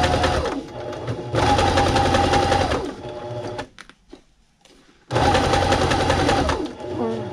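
A sewing machine zigzag-stitches fabric over foam for a double gun case, running in three steady mechanical bursts separated by short pauses, loud and close.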